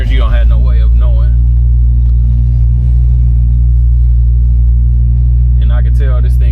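A 1967 Mustang's engine rumbles steadily and loudly throughout while driving, a deep low drone with someone talking over it at the start and end.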